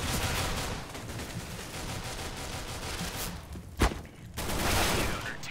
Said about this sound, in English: You shot him through the smoke.